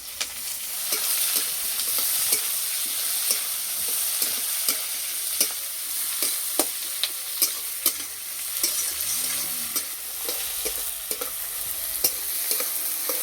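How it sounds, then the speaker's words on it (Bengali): Onion, slit green chillies and chopped tomato fry in oil in a pan, a continuous sizzle broken by regular clicking spatula strokes as the pieces are stirred, close and fairly loud. "এবার দেবো পেঁয়াজ, চেরা কাঁচা লঙ্কা, টমেটো কুচি"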